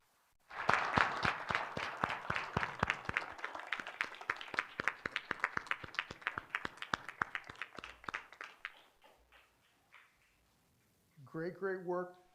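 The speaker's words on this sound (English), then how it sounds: "Let's give them a round of applause." Applause at a city council meeting: a crowd claps in a crisp, rapid patter that starts loud, thins gradually over several seconds and dies away, followed by a voice speaking.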